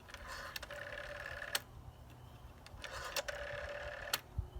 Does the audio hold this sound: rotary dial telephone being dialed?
yes